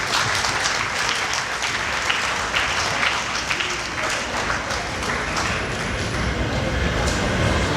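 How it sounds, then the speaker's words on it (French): Applause for the IG2 master's graduates in business management at a festive evening ceremony, a dense, steady clapping from a large crowd lasting throughout, with a faint murmur of voices underneath. "Applaudissez pour l'IG2"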